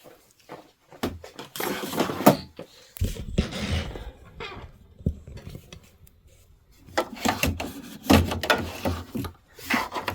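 An embroidery hoop holding a bench pillow project is slid onto the embroidery machine, making bursts of close scraping and clattering with rubbing and light knocks, separated by brief quieter gaps.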